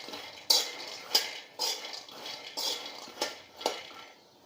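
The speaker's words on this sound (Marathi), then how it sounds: "चांगले तापलेले शेंगदाणे टाकायचे ते आणि कमी गॅसवर भाजून घ्यायचे" Peanuts roasting on a low flame are stirred in a pan, giving a series of close scraping clinks and rattles in an uneven rhythm, fairly quiet with short rustling between strokes.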